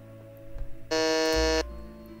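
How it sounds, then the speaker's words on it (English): A quiz show buzzer sounds once during a Magic: The Gathering trivia game, a loud flat electronic tone lasting under a second and rising sharply out of quiet background. "get ready on your buzzers"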